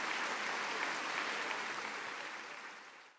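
Audience applause at a provincial staff New Year address, a dense steady clatter of many hands clapping at moderate distance, fairly quiet, tapering off toward the end.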